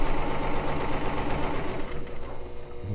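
A sewing machine runs steadily and loudly up close, its fast even needle chatter stitching a quarter-inch seam on a quilt top, then slowing toward the end.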